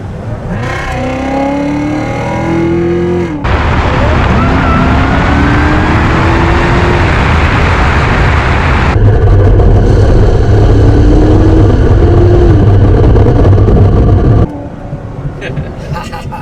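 A 757-horsepower Corvette C7 Z06 accelerating hard from inside the cabin, engine pitch rising through repeated gear pulls with abrupt shifts, loud and close, with a voice briefly at the start.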